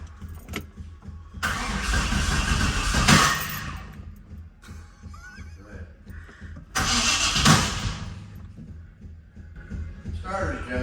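A barn-find 1965 Corvette coupe with a 396 big block and tunnel ram intake cranks and fires in two loud bursts, each running a couple of seconds with a rough, roaring engine note, and people talk in the quieter stretches between.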